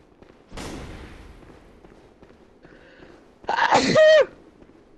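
A sneeze bursts out loudly near the start, followed later by a louder vocal burst, with quiet room background between them.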